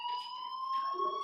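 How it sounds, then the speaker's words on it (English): A fire alarm rings in the video game Life is Strange, a steady, high electronic tone with bright overtones holding without a break, fairly quiet and alone. "do you hear that fire alarm?"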